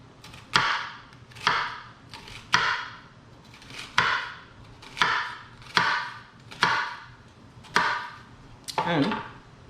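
A knife chops through an onion on a cutting board in a home kitchen, about ten crisp, evenly spaced strikes that ring out close and clear, with faint background noise between them.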